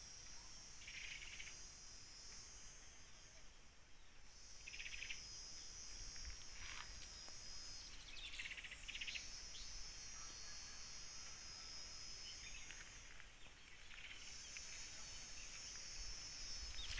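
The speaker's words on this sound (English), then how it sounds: "You hear the sound of those insects? Very loud." Loud insects chirp steadily in a Kenyan village, a dense high-pitched trill running throughout with pulsing bursts every few seconds, outdoors with no talking.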